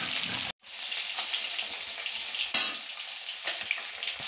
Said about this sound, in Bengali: মাছটা ভালো করে ভেজে নেব।